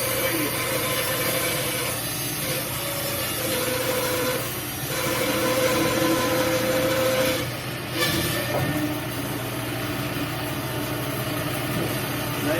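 Wood lathe turning a spinning wood blank, the gouge cutting it down toward a 6.5-inch radius, giving a steady loud grinding scrape with rumble that eases briefly twice before carrying on, with no talk.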